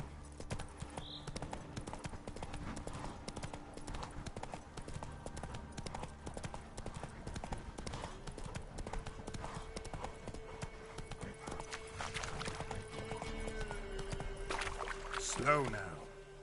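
Roach, a horse in The Witcher 3 game, trots with a steady clip-clop of hooves running throughout, mixed with game ambience and occasional voices, ending in a louder swell.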